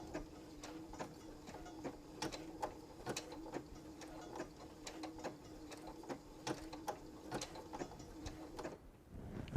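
Sewing machine stitching a quilting project, a steady, close, rhythmic mechanical ticking of the needle that runs evenly and then cuts off near the end, with no voices.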